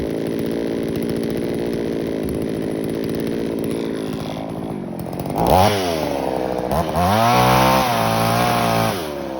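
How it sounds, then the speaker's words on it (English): A chainsaw cuts wood during storm cleanup, a loud steady buzzing drone for several seconds that then revs up and down in rising and falling whines as the cut progresses, with no voices. "anytime you're using a chainsaw, obviously you got to be careful with the chainsaw"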